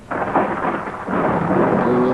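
Thunder rumbles into steady rain as a thunderstorm breaks, a broad, loud wash of noise that swells and keeps pouring with no voices over it.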